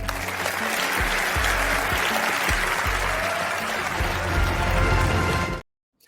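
Sustained audience applause fills the room, a dense and steady clapping from a large crowd with a few heavier thumps, continuing for several seconds before stopping abruptly into silence.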